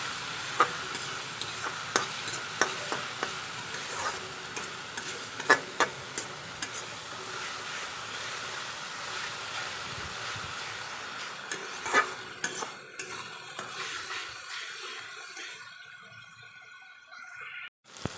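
Salted leafy greens fry and sizzle in a pan while being stirred, with a steady hiss, repeated scraping and clinks of a utensil against the pan, and the sizzle fading toward the end.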